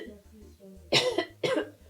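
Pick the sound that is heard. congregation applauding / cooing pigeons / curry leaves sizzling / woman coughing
woman coughing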